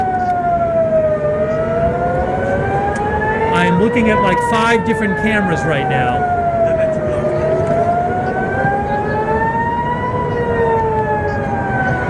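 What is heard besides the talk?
sirens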